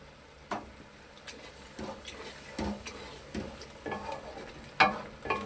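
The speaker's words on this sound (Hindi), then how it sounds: "ये दूध अब मैं तेज़ आंच पे इसको पकाऊंगा" Ridge gourd curry with milk cooking on a high flame, with an irregular series of stirring taps and scrapes against the pot over a soft steady sizzle.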